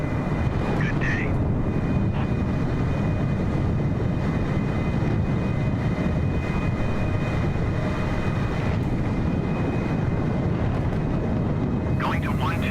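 Steady loud roar of a Cessna aircraft engine during a landing on an aircraft carrier, continuous broadband noise for the whole stretch, with faint radio chirps near the start and end.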